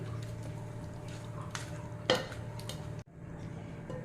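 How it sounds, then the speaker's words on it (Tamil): Cooked dal and mukkirattai greens being mashed in a metal pot, with soft scraping and stirring and one sharp clink of the utensil against the pot, fairly quiet. "இந்த பருப்பு கீரை எல்லாமே சேர்த்து நல்லா இந்த மாதிரி கடைஞ்சிட்டோம்"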